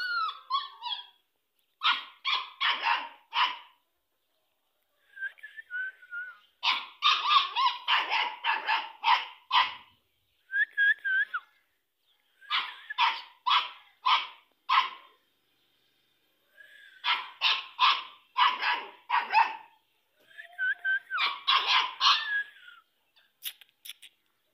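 A dog barks in repeated rapid bursts, loud and close, with short pauses between the volleys and no talking.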